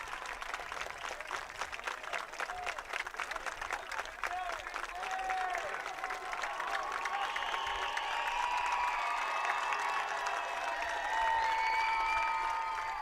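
A large high school football stadium crowd stands and applauds after the game, a steady dense wash of clapping with scattered cheers and whistles that holds throughout and swells slightly toward the end.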